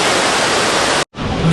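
Near Mostar, a waterfall cascade rushes with loud, steady white noise, broken by a brief silent gap before the roar resumes.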